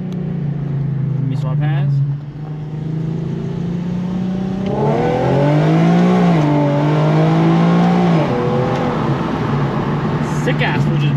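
A boosted Nissan 350Z engine drones, then blips and revs up through a downshift, pitch rising and falling before settling back to a steady hum, with someone talking briefly over it.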